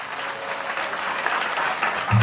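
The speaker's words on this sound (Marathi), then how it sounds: "एकदा ह्या लेकरांसाठी एकदा जोरदार टाळ्या वाजवा" A crowd applauds child performers at a devotional stage event, dense continuous clapping at steady volume throughout, with a dull thump near the end.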